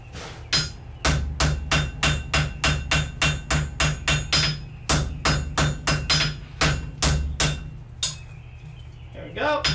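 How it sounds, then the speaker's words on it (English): A hammer strikes wrought iron on an anvil during forge-welding and dressing, producing a rapid, steady series of close, ringing blows that slow and then stop near the end. "I'm just dressing out the wrought iron to get it a little closer."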